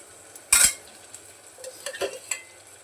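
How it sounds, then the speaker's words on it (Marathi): Ghee goes into a pot of sautéed onion and tomato for khichdi, with one sharp metal clink from the spoon followed by a few faint taps and a soft sizzle. "मग तूप घालते पहिलं थोडंसं"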